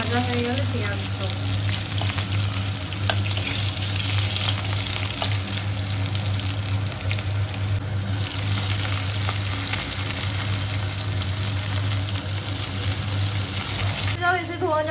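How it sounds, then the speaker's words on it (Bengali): Potatoes fry in a pan with nigella seeds and green chilli, giving a steady, close sizzle that runs through the whole stretch, with a constant low hum beneath and occasional stirring noises. "আলুগুলো একটু ভাজা হয়ে গেলে পেঁয়াজ দেবো।"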